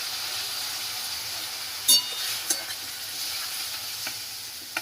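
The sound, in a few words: spiced salt water poured into frying pointed gourd and potato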